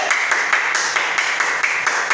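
A preacher clapping his hands during a healing prayer, a fast regular series of sharp claps close to the microphone, about ten in two seconds, with a roomy reverberant tail and no speech.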